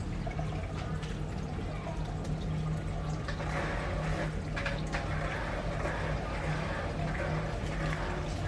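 A fish tank filter runs, with water trickling and splashing steadily under a low hum, close and continuous.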